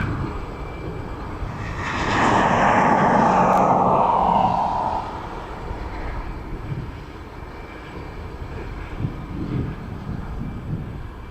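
A descending aircraft on approach to an airport sweeps past with a broad engine whoosh that swells to a loud peak and then fades into steady outdoor background noise.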